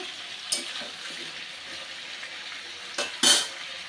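Rohu fish head with Malabar spinach, pumpkin and tomato being stirred in a pan, a soft steady frying hiss with a few sharp spatula scrapes and clinks against the pan near the end, no talking.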